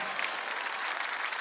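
A studio audience at a televised Masked Singer Romania singing show breaks into loud, sustained applause, a thick continuous clapping crowd with no talk over it.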